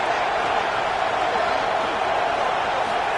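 Football stadium crowd roaring steadily as a team is pinned deep near its own goal line, a dense continuous wash of cheering and noise at constant loudness.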